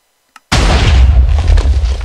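A TNT-propelled bolt-action gun fires a single round, one sudden loud blast after a brief click, followed by a heavy rumbling boom that fades slowly.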